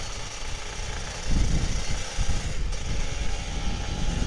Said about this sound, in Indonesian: Tapi suara motor 2 tak tuh emang bikin ngangenin sih